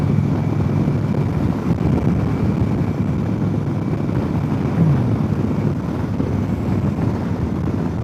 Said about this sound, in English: in this area where I'm at, it's just windy